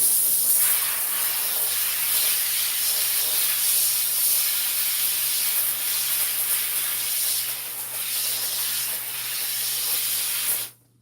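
A steamer steams a hat with a loud, steady, close hiss that runs unbroken for about eleven seconds and then cuts off abruptly, with no talking.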